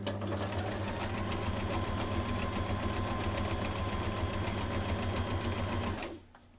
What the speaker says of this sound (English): My sewing machine's getting turned on